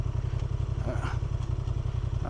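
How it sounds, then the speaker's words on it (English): A Honda Transalp 750 motorcycle engine runs close by with a steady, throbbing idle and faint mechanical clatter, with no voices over it. "So let's say the engine is on and I'm in second for some reason."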